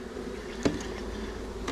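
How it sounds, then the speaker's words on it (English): A swarm of honeybees hums in a close, continuous buzz, with one brief louder knock partway through. "And there's another ball of bees. We got quite a bit in this swarm."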